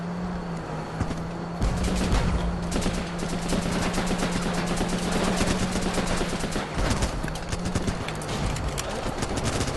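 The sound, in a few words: small arms gunfire in a war shooter video game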